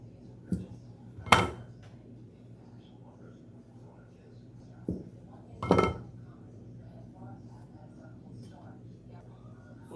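Cinnamon rolls set into a baking pan: a few sparse metallic clinks and soft knocks, two sharper ones standing out, close by against a quiet room with a voice talking.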